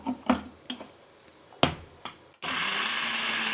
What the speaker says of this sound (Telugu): ఇప్పుడు దీన్ని మిక్సీ పెట్టేద్దాం.